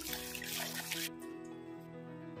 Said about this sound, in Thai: นำเห็ดที่นึ่งแล้วมาล้างน้ำเพื่อเอาเมือกออก